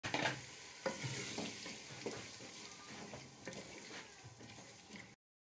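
Minced meat and masala being stirred and fried in a pan: a steady sizzle with repeated scraping and knocking strokes of a spoon, fairly close, cutting off abruptly before the end.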